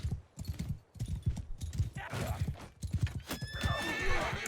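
In the medieval battle game Bannerlord, a horse gallops with rapid repeated hoofbeats and a whinny, loud and close, with a voice talking alongside.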